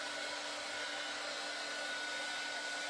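A heat dryer blows continuously over paint on a card, a steady loud whooshing hiss with an even motor drone and no pauses or speech.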